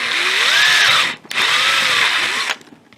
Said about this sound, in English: I'll drill a hole in here